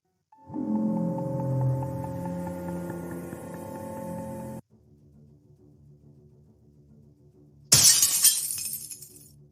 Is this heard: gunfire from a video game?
no